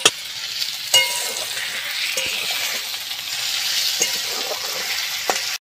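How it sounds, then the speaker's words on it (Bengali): Grated ginger, garlic and spices fry in a pan for a potato curry, a close continuous sizzle broken by the scrape and clink of stirring, no voices. "ছাঁচানো আদা ছাঁচানো রসুন আমি দিয়ে দিয়েছি। এবার এটা আমি ভালো করে কষিয়ে নেব"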